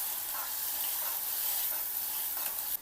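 Ground spice paste sautéing in a pan for a carrot paneer gravy, a steady close sizzle with faint stirring scrapes throughout and no voices.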